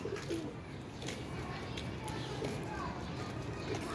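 Soft pigeon coos repeat in a low, throaty rhythm amid a busy outdoor background, with faint voices murmuring nearby.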